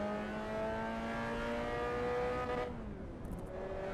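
Mazda MX-5 in Assetto Corsa EVO holds a steady, buzzing four-cylinder drone at fairly constant revs, then the pitch dips briefly as the note eases off before settling again.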